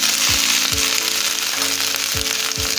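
Colored bell peppers hit a very hot pan for curried pork and mandarin fajitas, crackling in a steady close sizzle broken by several sharp utensil knocks against the pan.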